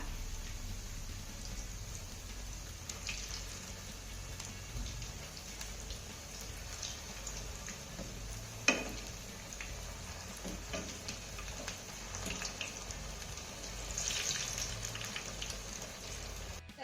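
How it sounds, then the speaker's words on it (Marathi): Fenugreek and poha vadas fry in oil. A faint, even, rain-like sizzle runs throughout, with one brief clatter midway and soft bubbling that swells slightly near the end. "वडे आपल्याला छान असे तळून घ्यायचे"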